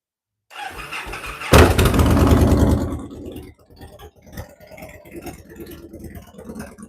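A motorcycle that has not been started in a long time cranks and catches with a loud burst, revs roughly for a second or two, then settles into a quieter, uneven idle.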